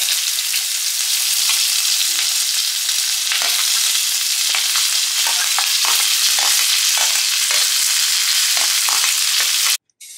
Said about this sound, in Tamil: ஸோ எண்ணெயில கடுகு, ஜீரகம் வந்து போடுங்க.